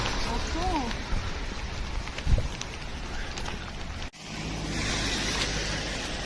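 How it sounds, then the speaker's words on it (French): Steady wash of heavy rain outside Lyon with a faint whistling sound early on and brief voices and a thump partway through. "mais il pleut à mort"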